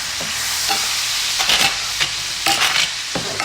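Steak sizzles steadily in a hot pan, a close hiss broken by brief scraping and stirring clatters, with no voices over it.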